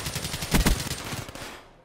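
KN-44 gunfire in a video game: a short, dense burst of rapid automatic shots that fades out over about two seconds, with no talking.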